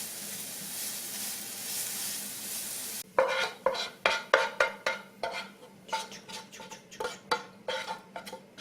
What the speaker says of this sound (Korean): 버터에 양파 볶으니까 냄새 되게 좋네